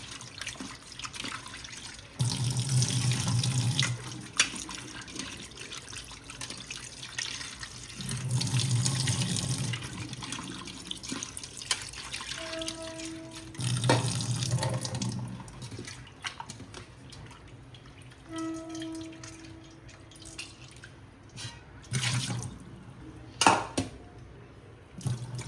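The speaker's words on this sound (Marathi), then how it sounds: "बोंबील चांगल्या प्रकारे धुवून घेऊया" Tap water gushes in four or five separate bursts into a sink as lemon-marinated bombil fish are rinsed for a Konkan-style fry, with quieter drips and handling in the pauses between bursts.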